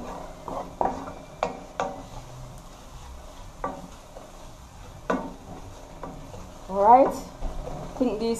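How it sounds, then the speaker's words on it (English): Seasonings sauté in a pot for Jamaican-style chicken fried rice, a low continuous sizzle broken by repeated sharp scrapes and clacks of a spoon against the pot, with a brief voice near the end. "We are just sauteing them."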